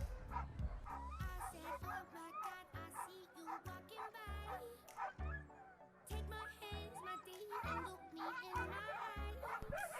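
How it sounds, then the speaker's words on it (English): Sled dogs bark, yip and whimper in rapid, excited bursts at a sled dog race in Fort Kent, a dense, loud chorus that runs continuously with many overlapping calls. "Okay, lead dogs, Jack, Arwin, Gilly, Maddie, Mingo."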